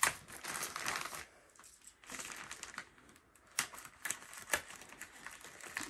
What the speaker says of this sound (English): it's probably going to be better to use the knife to cut it.